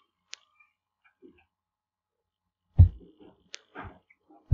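Mouse clicks on a trade button in the Zerodha Pi trading software, a few short crisp isolated clicks spaced apart in a quiet room with soft handling noises between.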